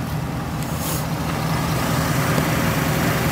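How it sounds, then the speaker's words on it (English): A 1990 Lincoln Town Car limousine's engine idles in a steady, continuous low rumble, close by and fairly loud, with a brief hiss partway through. "it's already started up, as you can hear"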